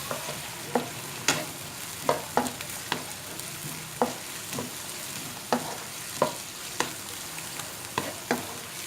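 Onions frying in a pan with garlic and ginger, a soft steady sizzle broken by repeated clicks and scrapes of stirring at an irregular rhythm, close and fairly quiet with no talking.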